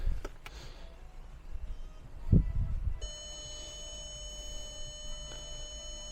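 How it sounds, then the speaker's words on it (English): A thump, then a sustained high electronic beep from a car dashboard with the ignition on begins partway through and continues steadily, faint and close. "Beep is annoying."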